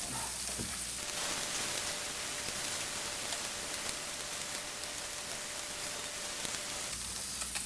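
Freshly caught fish fillets fry in a pan for tacos, giving a dense, steady hiss of sizzling oil up close that runs unbroken, with faint handling sounds at the start and end.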